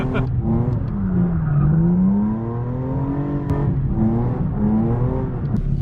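A BMW E36 drift car on its first drive, engine loud and close, rising and falling through revs and gear changes with a steady droning exhaust note.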